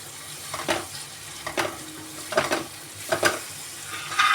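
Onions and tomatoes simmer in a Punjabi restaurant-style gravy, giving a steady soft sizzle and bubbling broken by several distinct stirring scrapes at roughly regular intervals, close and alone without talk.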